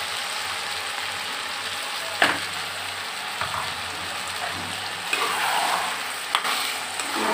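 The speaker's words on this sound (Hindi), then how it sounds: "इसको अच्छे से फ्राई करूंगी।" Peas and potatoes fry with ground onion masala in a pan, giving a steady close sizzle throughout with occasional scraping stirs.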